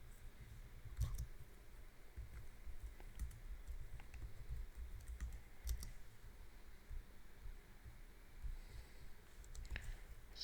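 Keystrokes on a computer keyboard while configuring an SFTP server, a steady stream of soft clicks with occasional louder taps, close and alone over a faint background hum.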